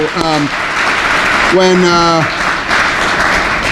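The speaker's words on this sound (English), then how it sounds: "Carlo, round of applause for Carlo." Audience applause at the grand opening of a University of Maryland facility in College Park, honoring a university finance administrator; steady clapping runs throughout while a voice calls out over it in two short bursts.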